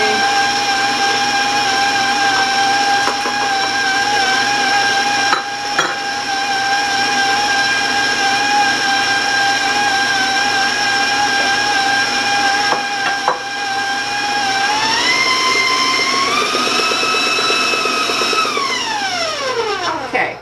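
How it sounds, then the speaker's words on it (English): An electric mixer beats fudge brownie batter with a steady, loud motor whine. The pitch climbs partway through as the speed changes, then sweeps down as it winds off at the end. "I'm going to turn the mixer on"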